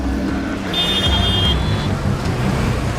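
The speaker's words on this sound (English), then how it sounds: "Traffic gridlocks the streets" Dense street traffic in Lagos, Nigeria: a steady, close roadway rumble of engines, with a thin, high tone rising briefly above it partway through.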